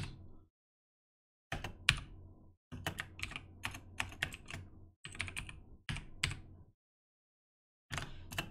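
Bursts of clicky typing on a computer keyboard, close and fairly loud, in several separate runs broken by short silences, with no talking.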